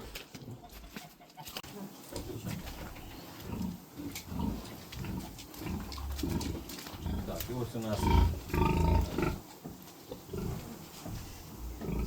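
Sows in a pig barn grunt and snort while feeding during deworming, with loud, rough, close grunts that keep coming under someone talking throughout.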